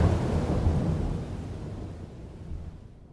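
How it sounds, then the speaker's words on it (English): Thunder rolls during a mean nighttime storm with rain, a loud rumbling crack that fades slowly over a few seconds, alone without voices. "Crackling, lightning and rain,"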